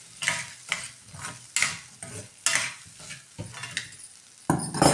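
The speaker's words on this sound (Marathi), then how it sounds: "शेंगदाणे टाकून पण थोडंसं मिडियम गॅसवरती आपण परतून घेऊ" Coarsely crushed peanuts being sautéed in a pan over medium gas, with rhythmic stirring scrapes about every half second over a light frying sizzle, close and clear with no talking.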